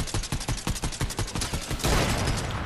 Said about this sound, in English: Whoa, I'm getting sniped.